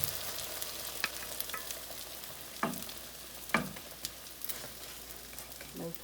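A frittata frying in a pan on medium heat after being flipped to cook its other side, giving a steady close sizzle broken by a few soft clicks and taps.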